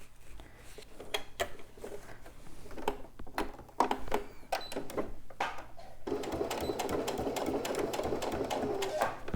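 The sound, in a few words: sewing machine stitching along previous seam line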